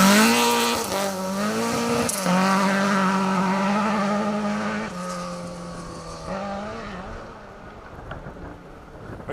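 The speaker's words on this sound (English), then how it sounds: "Very throaty sounding Mark II, Salter Motorsport, always turn out a good car." Ford Escort Mark II rally car built by Salter Motorsport, a deep throaty engine revving hard and loud close by, rising and falling through several gear changes before fading slightly as it pulls away.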